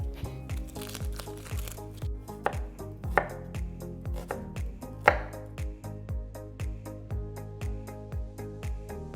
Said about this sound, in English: Mince the shallot.